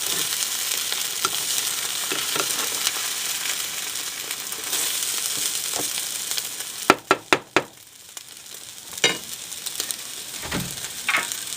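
Bean sprouts stir-frying in a pan, a loud continuous close sizzle with scraping stirs, then a few sharp clacks of a utensil against the pan and a slightly quieter hiss afterward.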